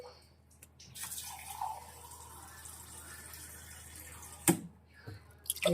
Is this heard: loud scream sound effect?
no